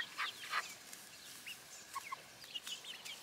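Two-month-old Black Sex Link, Calico Princess and Isa Brown chickens cluck and chirp while running around in their pen, with several short, soft calls scattered over quiet background.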